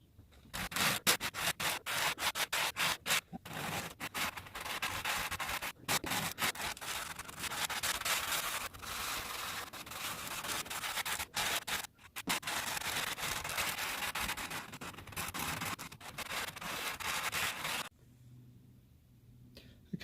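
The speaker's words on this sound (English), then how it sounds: "I've now got all this area sanded down" Sanding a model railway road surface of fine sand mixed with grey tile grout, a steady close abrasive rubbing that runs continuously with brief pauses, then stops near the end.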